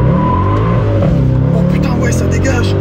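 A Mercedes C63 AMG accelerating hard, its engine a loud, close, continuous roar that holds strong for the whole moment, with a person speaking over it.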